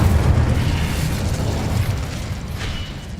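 Incendio fire spell cast in the video game Hogwarts Legacy, a loud, dense rumbling burst of flame that sustains with a roaring low end for several seconds, alone without speech.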